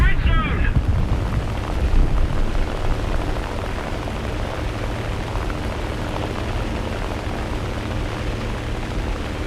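Bombs dropped on an enemy base explode in the War Thunder video game, with a brief sharp burst at the start giving way to a long, dense, rumbling roar of blasts and engine noise that stays loud throughout.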